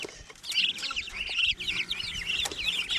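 Small pure white silkie chickens cluck and chirp on a homestead, a busy run of overlapping clucks and calls at close to moderate distance, steady throughout with faint background noise and no talking.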